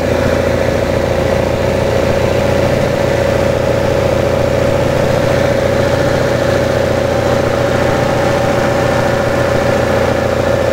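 A car engine with triple Weber carburettors idles loudly and steadily up close, slightly high, a constant rumble with an uneven, shaky throb from unbalanced carburettors.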